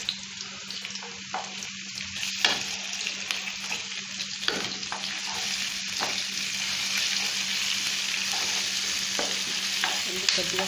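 Ginger garlic paste fries with onions in a pan for a drumstick tomato curry, a continuous sizzle that grows slightly fuller, broken by several scraping stirs and clicks.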